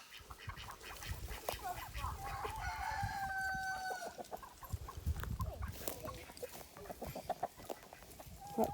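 Hens cluck and squawk nearby in a coop, scattered calls rising and falling over a rustling background, with one drawn-out crowing-like call in the middle; a person talks faintly at times.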